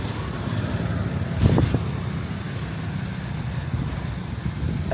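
Road traffic in Koh Kong, Cambodia, where motorbikes outnumber cars: a steady street rumble with a vehicle passing close by near the middle, no talk.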